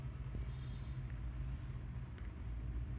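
A kitchen mixer grinder pulsing through chocolate, nuts and dates, giving a steady low motor rumble that runs close and loud for the whole span with no break or talk.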